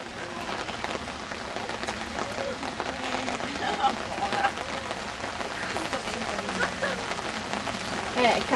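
Steady rain falls outdoors at a dog jumping event, a continuous broadband patter that stays fairly constant throughout, with voices talking over it.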